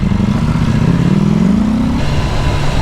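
BMW S1000R naked motorcycle with a standard exhaust, its engine revving loudly up close, pitch climbing steadily then dropping back to a rough, throbbing idle.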